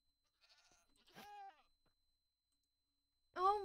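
Goats in the Minecraft video game bleat in short nasal calls, a faint one early and a louder, closer one at the end, with quiet gaps between them.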